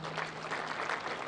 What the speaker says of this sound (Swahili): Tuwapigie makofi hawa wadosi